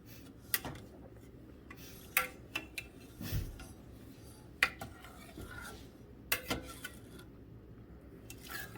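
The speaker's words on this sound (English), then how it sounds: "we're going to put it on medium heat. And we're going to stir it." Spoon scraping and clinking inside a pot of taffy sugar mixture being stirred over medium heat, scattered sharp knocks between softer stirring swishes, close and moderately quiet with no talking.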